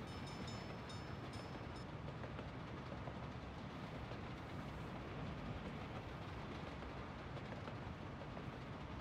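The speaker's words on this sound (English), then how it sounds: "that was probably the oil train. Might have been a fuel train." An oil or fuel freight train rolls past in the Soviet-era city-building game Workers & Resources: Soviet Republic, making a steady, faint rumble with rattling wagons for about nine seconds and no speech over it.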